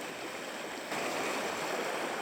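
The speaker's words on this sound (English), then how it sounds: "it turns out the currents were quite strong" A small river on the Belgium-France border in the Ardennes rushes with a strong current, making a steady, close, broadband roar of flowing water that grows slightly louder partway through.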